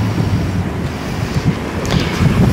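Surf washing in on an incoming tide at Bowling Ball Beach, a steady rolling wash of waves with gusty wind buffeting the microphone throughout, no voices.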